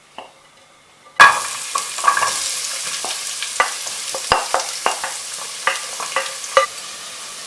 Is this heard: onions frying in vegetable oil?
yes